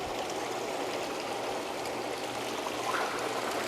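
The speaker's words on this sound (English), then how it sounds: "We have a waterfall." Waterfall water feature on a hot tub spa in a showroom, running continuously as a soft, even splashing rush with no voices.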